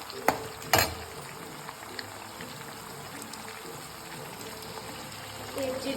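Onions frying in a little oil for hotel-style vangibath: a steady low sizzle runs throughout with a few sharp clinks near the start and some stirring near the end.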